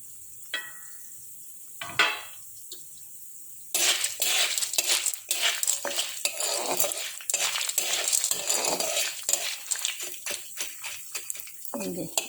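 Popcorn kernels pop and sizzle in a covered pan on the stove, quiet at first with a few isolated pops, then a dense rapid crackling burst of popping and rattling that continues steadily.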